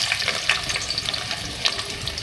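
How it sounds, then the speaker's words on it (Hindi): Onions dropped into hot oil for an aloo gravy crackle and sizzle steadily, a close, bright frying hiss with small pops, heard alone. "सबसे पहले ऑयल में हम प्याज डालेंगे।"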